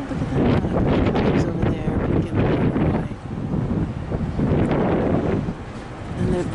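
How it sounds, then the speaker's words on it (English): Heavy wind in Aruba buffets the microphone in loud, rumbling gusts that rise and fall, drowning out everything else. "It's pretty windy. In fact, you probably won't even be able to use the sound on this video."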